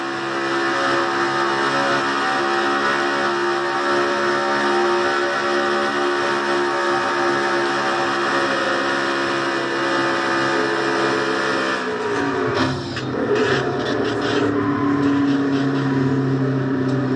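Onboard a NASCAR-style race car driven by Seth Cole in the Castrol GTX Cup Series, a loud, sustained engine drone holding steady pitch, then dropping and shifting with rattling bumps near the end.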